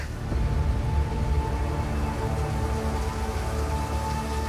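Steady rain pours down in cold outdoor wilderness in Bulgaria, a dense, even hiss of drops on surfaces running unbroken from start to finish, close and fairly loud with no voices.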